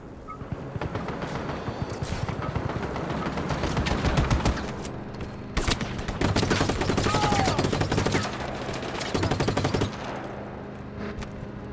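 Rapid, continuous cannon and gunfire in the Just Cause 3 game pounds away in dense, loud bursts for over ten seconds, with brief lulls between volleys.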